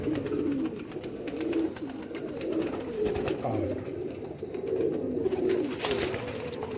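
Pigeons coo softly and continuously in a loft of high-flying breeder birds, low murmuring calls layered with faint rustling and distant background noise, with no clear talking.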